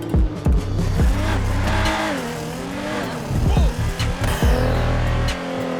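A modded 800 hp twin-turbo RB38TT Veilside Nissan Z in GTA 5 revs hard, with loud engine drone, sharp turbo blow-off hisses and tire squeal between shifts, close and continuous.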